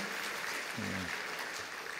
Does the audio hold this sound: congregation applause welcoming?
yes